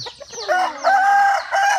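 Caged chickens on a family poultry farm clucking and squawking close by, a loud run of drawn-out, rising calls in several bursts, with no talking.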